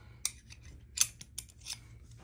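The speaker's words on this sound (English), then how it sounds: "need my scissors for this" Scissors snip through packaging several times in quick, uneven bursts, close and crisp, with faint rustling between cuts and no talking.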